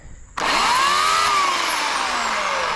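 An electric chainsaw kicks in abruptly and runs at a loud, steady whine, its pitch rising then gently sagging as the chain keeps spinning; a quieter hum comes before it starts.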